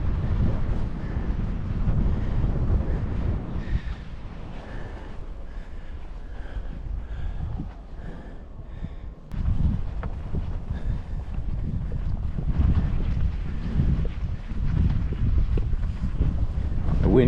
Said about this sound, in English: The wind feels nice.